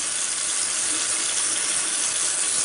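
A face makeup brush being wet under a steadily running tap, the water splashing in a continuous, even hiss from start to finish with no talking.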